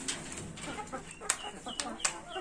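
Chickens cluck and give sharp short calls in a backyard farm cage, several bursts at close to mid distance over a busy outdoor background.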